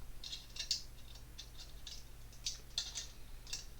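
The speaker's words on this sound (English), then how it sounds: "So get my screwdriver, long nose pliers, and just tighten the screws." Screws being tightened with a screwdriver on a Terminator model kit: small, quiet scratchy ratcheting bursts repeating irregularly every half second or so, close but faint over a low steady hum, no talk.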